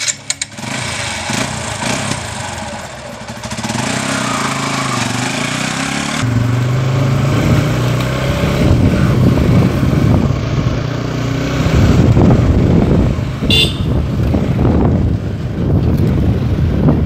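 A TVS Apache RTR 180 motorcycle being ridden during a mileage test, its engine droning steadily and loudly for the whole stretch, mixed with heavy wind rush against the microphone.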